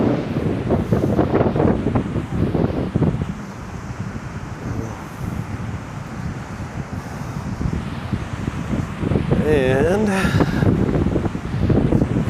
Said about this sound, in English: it gets very windy out here this time of day, it seems